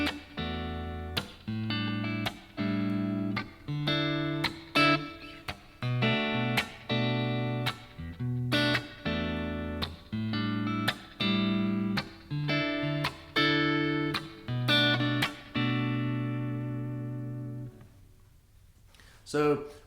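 Acoustic guitar strumming a common chord progression enriched with added color notes, each chord struck in a steady rhythm of repeated strums, sustained and clear up close, fading out at the end.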